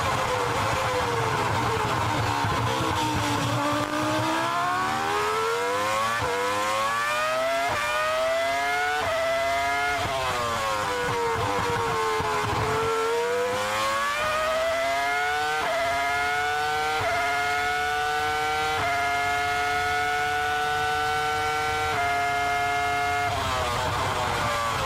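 A Ferrari F2004 V10 Formula One engine screams at high revs, its pitch swooping down and up repeatedly through gear changes and corners, loud and continuous, then climbing steadily through upshifts toward the end.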